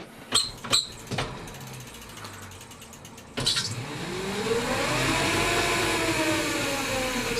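E-bike mid-drive motor running on throttle after a few mechanical clicks, spinning up into a steady rising whir that holds loud and close, no talk over it.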